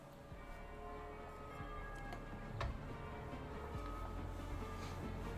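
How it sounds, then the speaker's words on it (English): Bells ring through the Coliseum arena map in a video game, a steady ticking, chiming pattern with a few brighter strikes over a low, constant background hum. "we have the bells ringing as teams are coming out here on Coliseum"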